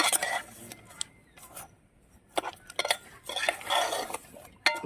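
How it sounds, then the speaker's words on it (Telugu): A spoon stirring mango seed tamarind stew in a metal pot, with intermittent scraping and clinking strokes separated by short quiet gaps, close and moderately loud, no talking. "దీని మొత్తానికి బాగా అయితే కలుపుకోవాలి."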